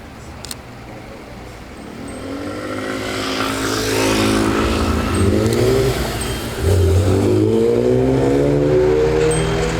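A Wiesmann sports car engine revs and accelerates nearby at the Zoute Grand Prix, its note rising in pitch and growing louder across several gear pulls, alone with no speech.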